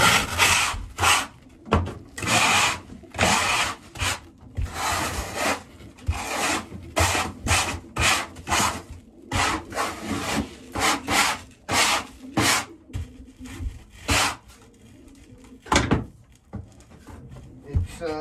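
Sand being scraped into a pile across a pigeon loft floor, close rasping strokes in an irregular rhythm of short bursts with brief gaps, fairly loud throughout.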